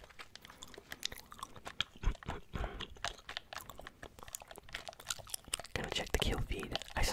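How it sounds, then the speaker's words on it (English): Close-miked bubblegum chewing during a relaxing ASMR Fortnite gaming session: wet, clicky mouth sounds repeat steadily throughout, mixed with soft whispered talk. "I'm just gonna keep chewing bubblegum"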